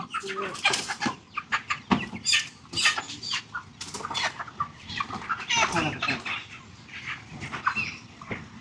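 Broiler chickens on a poultry farm cluck, squawk and flap their wings in a busy, close chorus of overlapping calls, with rustling movement throughout and no clear speech.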